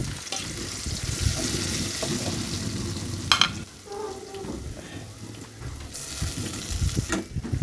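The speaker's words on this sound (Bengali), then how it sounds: "মরিচ মশলাগুলো একটু কষিয়ে নিব।" Chili and spice paste with onion, garlic, salt, turmeric and red chili frying in a pan, a steady close sizzle with scraping stirs and a couple of sharp clanks from a utensil against the pan.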